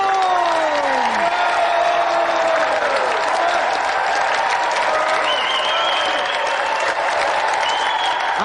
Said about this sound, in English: Have another round of applause for Callum Green and tonight's special guest, Vinnie Jones!